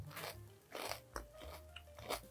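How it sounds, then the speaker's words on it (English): Crispy pan-fried salmon skin, rolled up and bitten, gives several loud crunching bites with crackly chewing in between. The sounds are close and uneven, with no talking. "My favorite way to do this is just to roll it up and just eat it"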